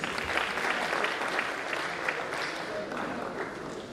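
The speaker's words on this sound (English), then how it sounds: "Please, another round of applause." An audience at a Nigerian university registrars' retreat gives a sustained round of applause, dense, even clapping filling the room for several seconds before tapering slightly.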